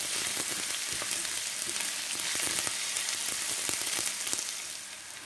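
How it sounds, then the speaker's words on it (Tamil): Sliced onions hit hot oil with mustard seeds, giving a loud, dense, hissing sizzle with scattered crackles and pops that holds steady close by, easing off slightly near the end. "கடுகு இப்படி வடித்து முடித்ததும் வெங்காயம் போட்டு வெங்காயத்தை போட்டு இப்படி தாளிப்போம்."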